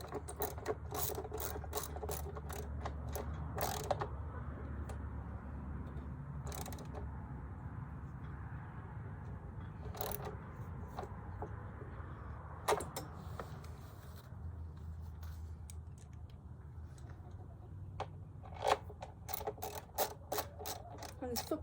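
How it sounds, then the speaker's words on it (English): Long ratchet clicking steadily during a belt change on a Yamaha Grizzly 660 ATV, rapid pawl ticks in repeated bursts with creaks and metal handling over a low background hum. "I would recommend using the long ratchet the whole time"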